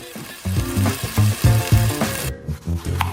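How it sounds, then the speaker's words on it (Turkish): Hot oil sizzles and crackles steadily as potato spirals fry, with some clattering and stirring noises throughout. "Şimdi onu kaynar yağda kızartacağım."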